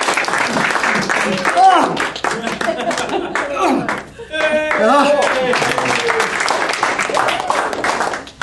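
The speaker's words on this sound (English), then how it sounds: "Can I have a bit of applause, please, as I'm doing it?" Audience at a Toastmasters meeting claps and applauds steadily through a press-up, a loud burst of clapping sustained for several seconds with a brief dip, while a voice exclaims over it.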